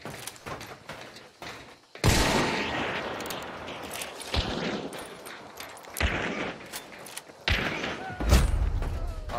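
Gunfire from a shooting video game comes in several sharp bursts and single cracks separated by short gaps, loud and close, with muffled game ambience and faint voices between the shots.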